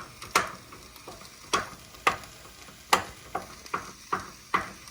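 Ground beef and onion sizzling in a pan while a spoon stirs and scrapes through it, giving sharp scraping strokes roughly every half second over a steady low sizzle, close up with no talking.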